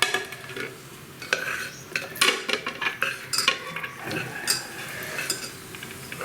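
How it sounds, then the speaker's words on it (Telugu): Cooked rice is scooped from a pressure cooker into another vessel, bringing irregular metallic scrapes and clinks of a spoon against the pot, with sharp taps scattered among softer stirring rustle and no speech. "ఈ పాత్రలోకి నేను దీన్ని రైస్ని తీసుకుంటున్నాను."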